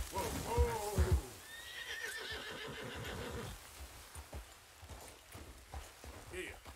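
A horse in Red Dead Redemption 2 whinnies loudly near the start, then hooves clip-clop along through a rainy night scene while someone talks over them.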